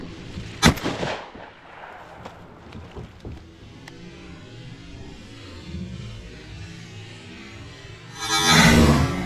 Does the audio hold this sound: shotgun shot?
yes